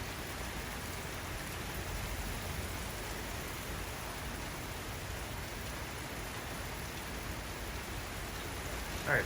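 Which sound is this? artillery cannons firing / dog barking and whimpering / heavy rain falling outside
heavy rain falling outside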